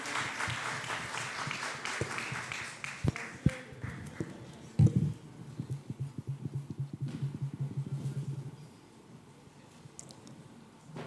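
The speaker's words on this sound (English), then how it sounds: "Please, a round of applause for our moderator and speakers" Applause from a conference audience at an African forum on transitional justice, honoring the moderator and speakers: dense clapping swells at first, then thins into scattered individual claps before fading out.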